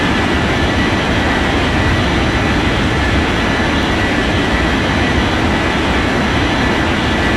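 Jet airliner engines roar steadily through a takeoff in an air traffic control game, a loud, dense, unbroken rumble with no voices over it.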